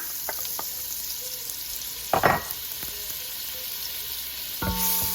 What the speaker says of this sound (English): To my pot over a medium-high heat, I'm going to get in the oil and the butter.